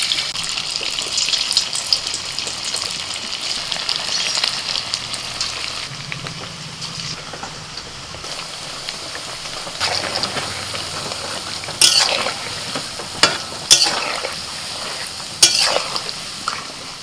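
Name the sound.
chicken pakoras frying in hot oil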